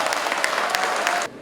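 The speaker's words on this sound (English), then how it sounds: "So please give a huge round of applause for" A conference audience applauds for a brief burst of steady, dense clapping that cuts off abruptly.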